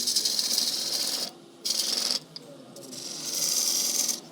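Crown cryogenic woodturning tool cutting wood on a lathe, a steady hissing rasp of shavings peeling off that drops out briefly twice, then swells back louder near the end.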